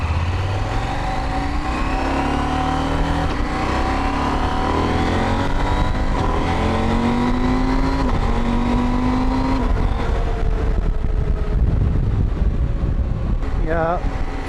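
A KTM 790 Adventure motorcycle engine runs loud and close throughout, its pitch rising and falling through gear changes as the rider accelerates, with wind noise building toward the end.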